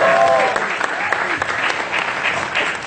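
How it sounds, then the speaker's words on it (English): An audience at the 2.0 movie music launch breaks into steady, dense applause for a few seconds, with a brief voice at the start. "sure, why not a round of applause, right?"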